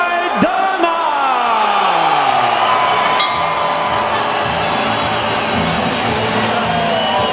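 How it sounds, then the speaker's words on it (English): A boxing crowd at the Alamodome in San Antonio, Texas roars and whoops as a challenger is introduced, loud and sustained, with yells rising from the arena. "So a nice response from the crowd gathered here at the Alamo Dome in San Antonio, Texas."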